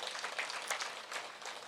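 An audience at a day-two DMC session led by Seth BalaKrishna claps at moderate volume, a dense, even patter of many hands with no talk over it, at a modest distance in a hall.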